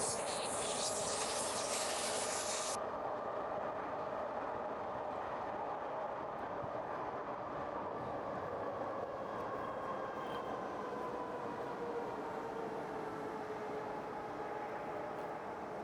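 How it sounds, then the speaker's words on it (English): A train passes nearby, a steady loud rumble and rushing noise holding throughout with a faint squeal, after a brief hiss at the start. "We just wait for this train to pass and."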